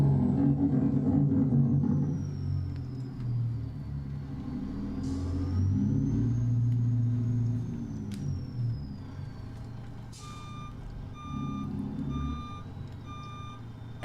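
Detroit Diesel 60 series engine in a W900 truck in American Truck Simulator, a steady low diesel rumble up close, joined by repeated evenly spaced reversing beeps near the end.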